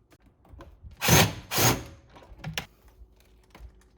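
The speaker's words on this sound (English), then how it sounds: "we will unscrew the top two screws" A power drill backs out the top screws on a microwave exhaust fan unit, giving two close loud whirring bursts followed by a shorter one and faint clicks.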